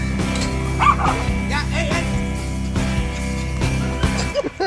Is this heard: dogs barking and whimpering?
yes